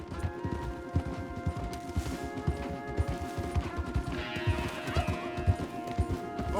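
Hooves clatter in a fast, steady galloping rhythm with a whinny and a brief crash, layered over droning game music.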